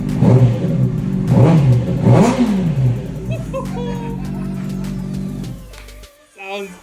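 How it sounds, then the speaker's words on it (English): 2006 Honda CBR600RR sport bike engine, rebuilt after a wreck, revving loudly up and down in a few swells before settling to a steady idle, then cutting off with birds audible afterward. "And we've got the bike running."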